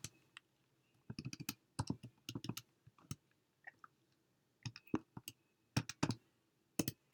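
Calculator buttons pressed to enter a logarithm, heard as bursts of small plastic key clicks, some quick runs and some single taps, close up and fairly quiet, with pauses between groups and no talking.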